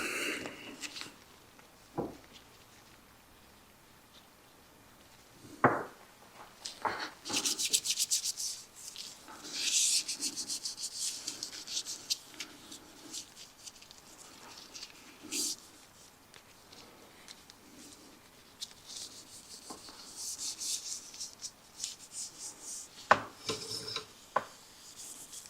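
Suede applicator rubbing coating onto blue magnesium wheels of a Porsche GT4 RS, soft scraping strokes in intermittent passes, close but quiet, with occasional light knocks.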